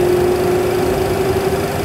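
Aircraft engines at takeoff power on the runway, a loud steady droning roar with a sustained tonal hum, continuous and close.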